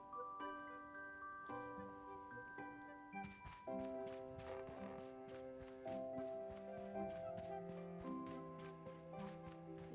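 Horse hooves clip-clop in a video game, a steady walking rhythm of soft repeated knocks under a layer of tonal game music, fairly quiet and moderately close, without speech.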